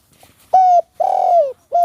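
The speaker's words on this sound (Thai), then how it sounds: "นกป้าก็เริ่มขันแล้วครับ" A spotted dove, a trained male kept for bird calling, gives loud close coos: a short note, then a longer drawn-out one, with another starting at the end, clear against a quiet background.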